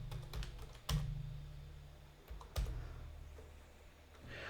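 Password entered on a computer keyboard during MySQL installation: a few sparse, faint key taps over a steady low hum, with two louder clunks and no talking.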